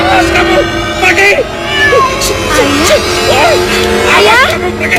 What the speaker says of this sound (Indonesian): Kucing jelek. Awas kamu, pergi.